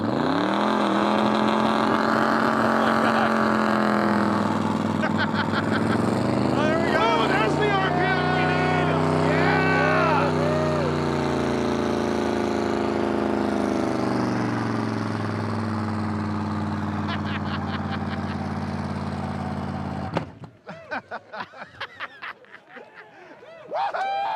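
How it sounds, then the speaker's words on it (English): A Pro Street car holds a loud, sustained engine roar through a burnout, revving and droning continuously before cutting off abruptly, followed by scattered crowd noise and voices. "we won our first Pro Street Burnout contest"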